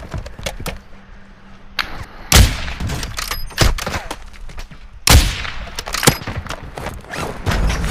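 Gunfire in the video game Warzone DMZ, with a few sharp loud bursts of shots and several fainter distant cracks spread across the moment, no talk over them.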